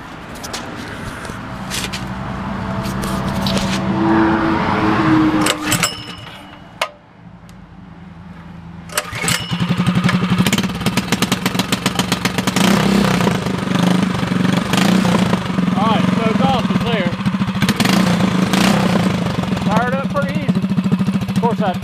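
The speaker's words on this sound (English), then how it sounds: "Let's fire this beast up." An ATV fitted with a clone exhaust pipe cranks and fires up close by, stumbles and briefly dies, then catches and runs at a loud, steady, throbbing idle while someone speaks now and then.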